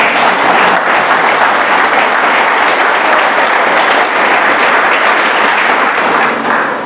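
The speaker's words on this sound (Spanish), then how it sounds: "¿Puede darle un aplauso al Señor?" A church congregation applauds loudly and steadily throughout, a dense wash of many hands clapping at once with no speech over it.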